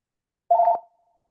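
A single telephone keypad tone beeps as someone tries to hang up a phone, a clean, steady electronic note lasting about a third of a second over silence.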